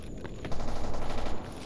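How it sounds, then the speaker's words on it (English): Automatic gunfire in the video game S.T.A.L.K.E.R. Anomaly, a rapid burst of shots at moderate distance lasting about a second over a noisy game background. "It's a weird sounding gun."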